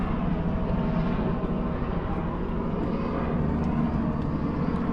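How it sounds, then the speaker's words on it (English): Steady low engine drone of a helicopter passing overhead, fairly loud and continuous throughout with no talking. "oh, there's a helicopter"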